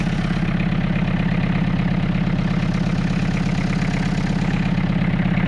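A 1981 LUV diesel pickup, 177,000 miles, idles steadily in western Nebraska, its low rhythmic engine clatter continuous and close throughout with no talk.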